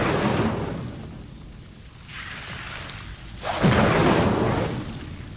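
The Incendio fire spell in Hogwarts Legacy: two booming, whooshing bursts of flame, the second louder and sharper, each rushing up and fading, with no talking.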